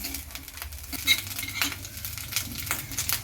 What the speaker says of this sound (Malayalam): നന്നായിട്ട് ചുവക്കുന്നത് വരെ നമുക്കിത് ഇളക്കി വറുത്തെടുക്കാം.